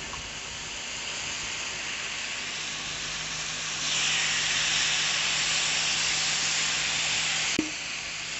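Chicken tikka cooks on a tawa over medium-low flame in its own oil, producing a continuous close hiss that swells louder partway through, with a single sharp clink near the end.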